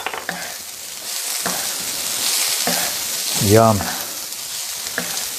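Scallops, cabbage and celery sizzle steadily on a hot griddle, a broad continuous frying hiss with a louder surge midway as more food hits the surface; a voice briefly speaks over it.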